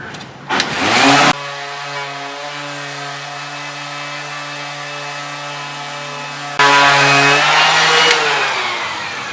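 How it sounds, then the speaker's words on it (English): A power sander works on new wood being fitted to a boat, a steady loud whine with a short burst at the start and a louder stretch near the end, running alone without talk. "I'll sand that a little more and a little bit right in there."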